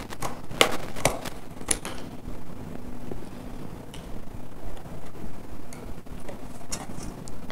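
Scissors cut through plastic in a series of close, irregular crisp snips and crackles, with a faint hum underneath.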